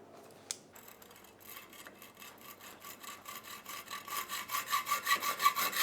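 A metal piece is sawn by hand to cut a section out of it, faint at first, then building into a quickening series of rhythmic rasping strokes that grow louder toward the end.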